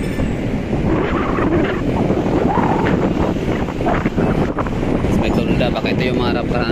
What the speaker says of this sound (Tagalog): Grabe, sarap ng hangin.